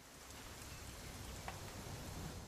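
Steady rain falls in the narrative game What Remains of Edith Finch. It is a soft, even wash of patter with no breaks and sits faint and constant throughout.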